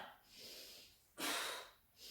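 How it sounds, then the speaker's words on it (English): Heavy exertion breaths during a no-equipment home ab workout, a few breathy exhales and inhales with one louder, sharper exhale near the middle, close and fairly clear. "Breathing out as you come up."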